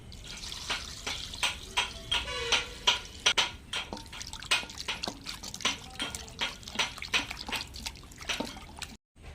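Raw chicken being rinsed under running water, with irregular splashes, drips and wet handling sounds close by, ending abruptly.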